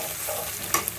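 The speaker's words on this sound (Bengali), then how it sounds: "ভেজে নিচ্ছি।" Onions fry in a pan, giving a soft continuous sizzle with a faint scrape of stirring over about a second.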